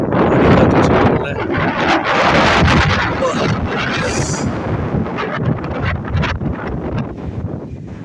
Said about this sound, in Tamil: பார்த்தீங்களா, பயங்கரமான காற்று.